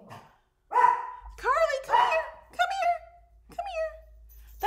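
Several dogs bark in a short run of sharp, fairly close barks, one layered over another, with a low hum underneath.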